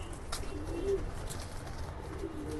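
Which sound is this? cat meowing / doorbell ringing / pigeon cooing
pigeon cooing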